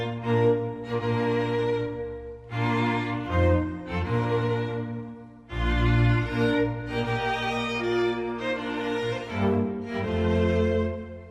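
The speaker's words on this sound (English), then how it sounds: "The bridal chorus, as you know, traditionally sounds something like this." The traditional bridal chorus wedding march played as instrumental music, stately sustained chords moving in a slow, steady rhythm, full and moderately loud with no voices.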